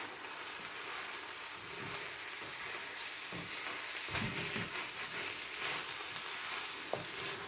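Rice with tuna stir-fried in a wok, steady close sizzling and crackling with scraping stirs throughout, no voices.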